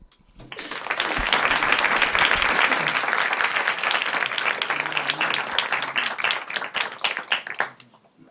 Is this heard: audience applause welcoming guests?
yes